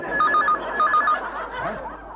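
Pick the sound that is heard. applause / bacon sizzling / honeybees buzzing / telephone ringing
telephone ringing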